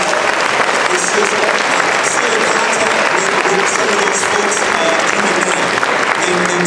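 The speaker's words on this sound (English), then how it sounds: "I want you guys to clap it up for the teachers, man." A school audience on campus claps loudly and continuously for the teachers during a keynote, a dense wash of applause with crowd noise mixed in.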